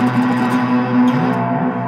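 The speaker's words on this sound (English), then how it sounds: "That is what a glorious like reverb sound." A Stromberg electric guitar rings through an amp with a lush reverb effect, sustained chordal tones washing into a long echoing tail, played alone.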